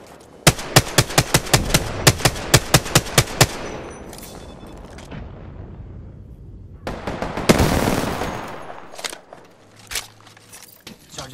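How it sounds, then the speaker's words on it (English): Rapid automatic gunfire in the video game Apex Legends, a fast burst of evenly spaced loud shots for about three seconds, then a lull and a second burst of scattered impacts and shots. "They're shooting at me?"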